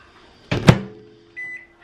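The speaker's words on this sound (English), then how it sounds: "I'm gonna put it in the microwave" A microwave oven with a mug of water inside gives a loud thunk as its door shuts, then a short beep, followed by the steady low hum of it starting to run.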